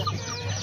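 Chickens cluck over leftover rice spread on the ground as feed, a short close burst of soft fowl calls over a steady low hum.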